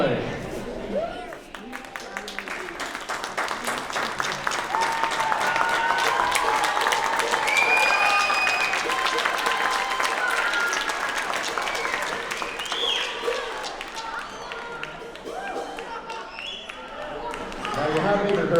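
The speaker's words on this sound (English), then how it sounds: "You might be clapping a little prematurely." Live audience clapping steadily at an evening gathering, a sustained wash of applause with scattered voices and cheers mixed in, swelling in the middle and tapering slightly toward the end.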